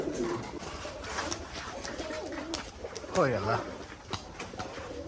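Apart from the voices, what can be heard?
pigeons cooing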